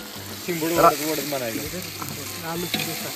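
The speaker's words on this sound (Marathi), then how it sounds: "आता आलं लसूण पेस्ट टाकली" Ginger garlic paste hitting fried onions in a pot for a rustic outdoor village biryani, with a loud, continuous close sizzle and frying crackle while a person talks over it.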